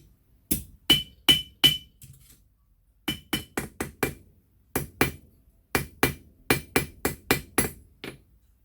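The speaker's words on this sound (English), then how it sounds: "And now we'll straighten these rods up a bit." Hammer blows on rusty brass fire screen rods being straightened, sharp metallic clangs in quick bursts of three to five strikes separated by short pauses, close and loud with no talk.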